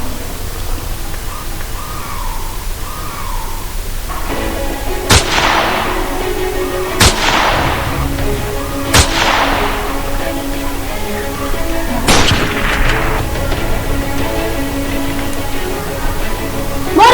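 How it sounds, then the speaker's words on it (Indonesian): Gunshots ring out as a flag is raised to half-mast, four sharp cracks at uneven intervals over a constant hiss of background noise. "Tiba-tiba terdengar bunyi tembakan."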